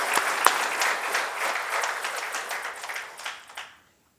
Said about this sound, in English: Let's give her a big round of applause for her presence here.